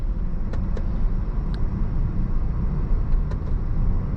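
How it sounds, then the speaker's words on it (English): A 2016 Range Rover Sport HSE downshifting in manual mode on the road: a steady, loud engine and road drone fills the cabin, with a few faint clicks as the gears step down. "I'm going to try manual mode, so I'll slide the shifter over. I'll try downshifting."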